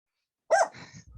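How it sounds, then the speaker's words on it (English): A pet dog gives a single sharp, close bark, with a short rough trailing sound and brief quiet before it. "I can't even stop him barking now."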